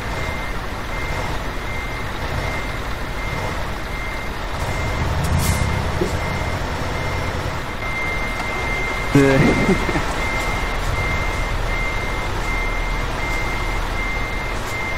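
A heavy truck backs up in Euro Truck Simulator 2 with its reversing alarm beeping in a steady repeated pattern over engine rumble, while someone talks and a short hiss of air brakes cuts in.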